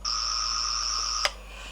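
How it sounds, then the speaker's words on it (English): A steady electronic buzz from a cheap toy Fourth Doctor sonic screwdriver replica runs for just over a second, then stops with a sharp click, with nothing else heard. "The second is just a standard buzzing."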